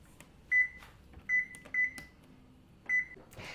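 An oven control panel beeping as it is set to preheat to 375 degrees: four short, clear electronic beeps at uneven intervals, close and isolated, with no talk.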